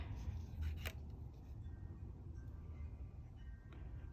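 Scissors trim material with one brief, quiet snip near the start against a faint background hum.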